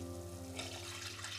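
Water poured into a pot for steaming mussels, a faint running splash and trickle that brightens partway through, over a low steady hum.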